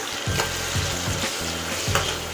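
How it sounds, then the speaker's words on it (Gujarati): Onions sizzle in a pan while being stirred for a pasta dish, with a steady crackling fry broken by repeated rhythmic scrapes of the spoon, up close. "હવે આપણે ડુંગળીને લાલ બ્રાઉન કલરની થાય ત્યાં સુધી હલાવશું।"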